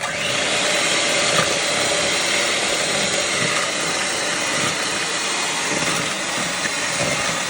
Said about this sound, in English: Let's mix it with the electric mixer.